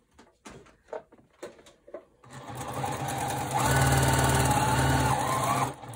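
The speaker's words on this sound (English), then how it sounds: "sew the long strips together." A sewing machine stitches long quilt fabric strips together with a quarter-inch seam, a steady close whir running continuously after a few short taps and handling noises.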